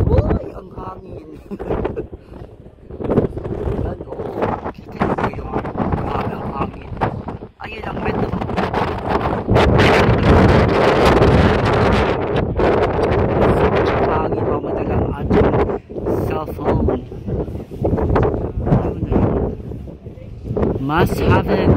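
Strong wind gusts across an outdoor rooftop or high lookout, roaring and buffeting the microphone almost continuously, with people chatting and exclaiming close by over the steady rush.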